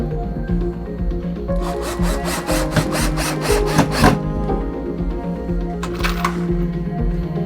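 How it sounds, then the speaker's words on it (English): A 3mm bit drilling pilot holes in wood, heard as a burst of rapid rhythmic rasping pulses for a few seconds, followed by a shorter second burst, close and fairly loud. "I'm using a 3mm drill bit here. I'm just drilling pilot holes."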